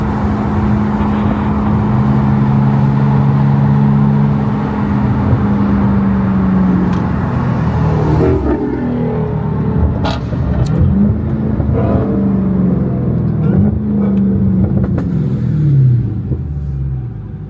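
A car's engine runs as it drives, a loud steady rumble with a rising and falling revving hum, heard close for the whole stretch, with no talk.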